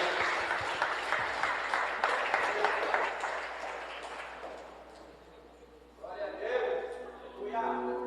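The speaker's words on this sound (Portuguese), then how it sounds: "Glória a Deus, aplauda ao Senhor" A church congregation claps in a dense, loud wash of applause for several seconds, fading to a quieter lull before a fresh burst of clapping and voices rises near the end.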